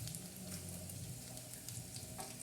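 Green chillies frying in hot oil, a steady, soft crackling sizzle that holds evenly throughout with no voices.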